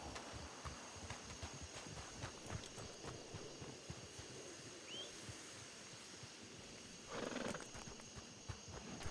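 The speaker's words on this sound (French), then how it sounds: "Je vais appeler mon cheval, cette fois-ci, en espérant que vous le voyez" A horse arrives after being called, its hooves clip-clopping faintly at a distance over soft outdoor background noise, with a brief louder burst near the end.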